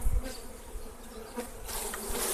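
Honeybees buzz in an opened hive as frames are handled in spring, giving a dense, continuous drone that swells slightly, close and loud, with no voice.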